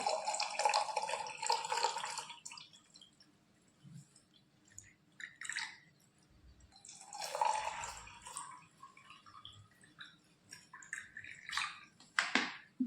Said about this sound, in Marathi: आता यानंतर आपण यात घालतोय थंड पाणी.